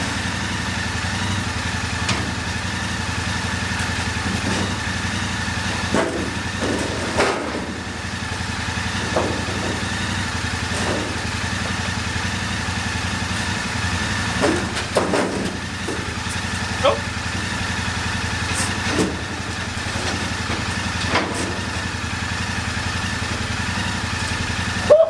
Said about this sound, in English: let's get some motorbikes out and hopefully